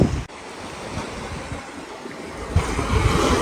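A river swollen with strong spring flow rushes continuously in a broad, steady roar that swells slightly toward the end, heard outdoors by a bridge in a California national park.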